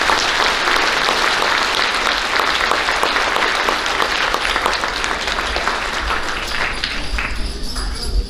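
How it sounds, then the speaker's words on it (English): Sustained crowd applause for elementary school students at a school awards ceremony, dense steady clapping from a large audience throughout, no talk over it. "Please give those kiddos a big round of applause."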